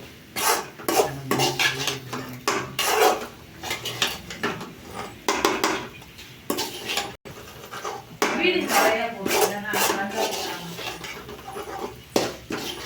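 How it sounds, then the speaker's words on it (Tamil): A spoon scrapes and clatters in a pan while macaroni is stirred with Maggi masala, giving repeated close bursts of metallic scraping with brief pauses between them. "மேகி மசாலா சேர்த்தவுடன் நன்றாக கிளற வேண்டும்"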